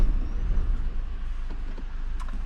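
A car engine idles steadily with a low rumbling hum, close and continuous and without a clear shutdown, and a few faint clicks come near the end.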